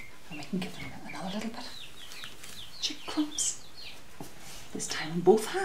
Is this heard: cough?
no